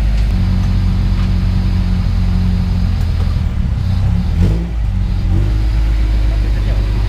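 A car running without a muffler on an HKS Hi-Power exhaust gives a steady, loud, low engine rumble that swells briefly as the revs rise, with talk underneath.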